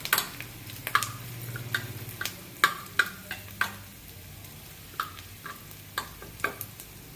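Food frying in a pan, with a soft sizzle under a run of sharp stirring clicks and scrapes from a utensil, spaced irregularly and close by.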